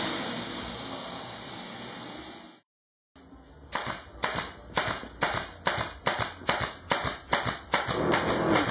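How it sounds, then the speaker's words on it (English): Staple gun driving staples one after another through a thermal pad into the bottom of a mattress, a dozen sharp close snaps at a quick, slightly uneven pace following a steady hiss. "Put the staples in with just a little added insurance to keep this thermal pad attached to the bottom of the mattress."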